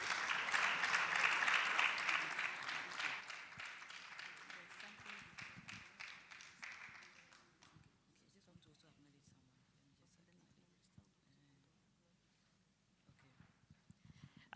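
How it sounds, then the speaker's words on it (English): Audience applause welcoming someone speaker at an International Women's Day dialogue event, a dense patter of clapping strongest at the start that gradually thins and fades out after several seconds, leaving quiet room tone. "Please welcome her with a round of applause."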